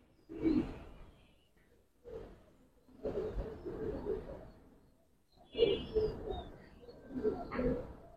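Giribaz pigeons coo in a loft in several separate bursts of low, throaty calls with short pauses between them, close by and moderately loud, with brief chirps mixed in.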